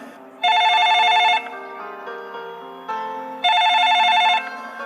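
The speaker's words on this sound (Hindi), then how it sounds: "इतने में बॉस के फोन की घंटी बजती है।" A phone rings twice in bright electronic bursts, each about a second long, with a quiet tonal backdrop between rings.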